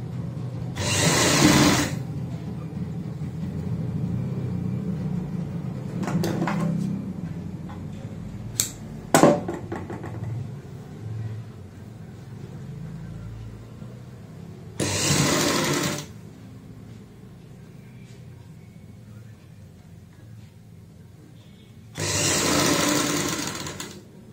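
A sewing machine stitches a folded strip on a girl's party-wear frock in three loud, steady whirring bursts, the first and last about two seconds long, with quiet handling of the cloth between them and no talk.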